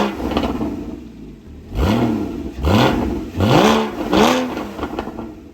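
Porsche Cayman GTS exhaust barks through four loud, close throttle blips. Each rev swoops up in pitch and falls back, separated by short idling pauses after a quieter opening.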